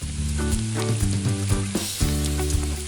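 Spice paste hits a pan of softened tomato and onion for tilapia jhal and fries with a steady, close sizzle, with a few soft stirring knocks and scrapes along the way.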